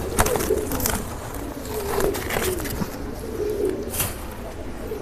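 A pigeon coos in a loft, soft throaty calls repeating every second or so over a steady background hiss.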